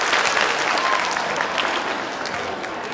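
A school assembly audience claps on request, a loud burst of many hands that trails off over a few seconds, the individual claps blurred together rather than a crisp count of three.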